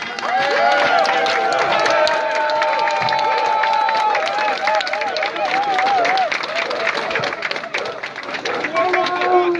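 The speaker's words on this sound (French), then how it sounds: "un tonnerre d'applaudissements pour toutes ces femmes et ces enfants qui sont ici avec des poussettes" Crowd at a Cameroonian diaspora demonstration in Berlin applauds women and children with strollers, loud continuous clapping and cheering mixed with voices and a whistle-like tone, steady throughout.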